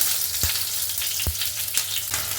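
Paneer cubes frying golden in oil in a pan for a malai paneer recipe give a steady, close sizzle, broken by two or three soft thumps or clinks as they are turned.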